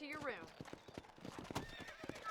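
Horse hooves clip-clop at a slow walk in the Red Dead Redemption video game, a quick run of close, crisp hoofbeats with a brief whinny at the start and a voice talking over them.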